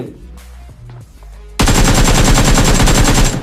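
Automatic weapon fire in a battle royale video game erupts after a short lead-in of quieter clicks and footsteps, a loud, rapid continuous burst of machine-gun shots close by, with no talking.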